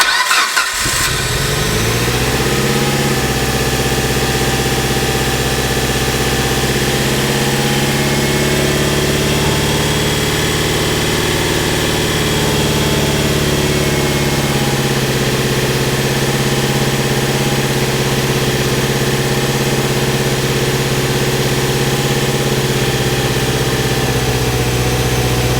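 A swapped-in engine in a Mitsubishi Evo 8 MR cranks briefly, catches and settles into a loud, steady close-up idle with a deep rumbling hum that holds for the rest of the clip.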